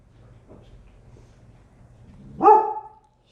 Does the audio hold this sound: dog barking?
yes